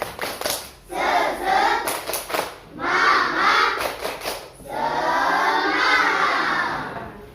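A class of fifth-grade Islamic studies pupils performs the rhythmic 'tepuk semangat' clap, with children's voices shouting and chanting in unison over bursts of hand claps, fairly close and loud in the classroom.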